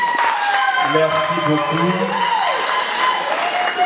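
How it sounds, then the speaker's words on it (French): Guests at a family celebration in Évreux clap briefly and loudly while a voice speaks over them and music tones sound in the background. "Est-ce que nous pouvons applaudir un peu, s'il vous plaît?"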